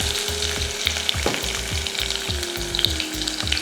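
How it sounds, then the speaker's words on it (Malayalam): Garlic and curry leaves sizzle steadily in hot sesame oil for a Kerala mango pickle, a close, continuous crackle with soft stirring scrapes throughout and no voices. "ആ നല്ലെണ്ണയ്ക്കകത്തോട്ടാണ് വെളുത്തുള്ളി ഇട്ടു, കറിവേപ്പില ഇട്ടു"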